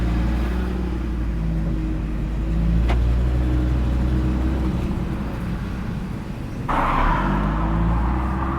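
An Audi RS3 three-door car drives along with a steady, loud engine rumble, swelling briefly as it accelerates midway and again near the end.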